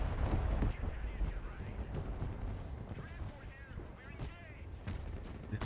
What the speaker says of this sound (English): Cruise missiles come in.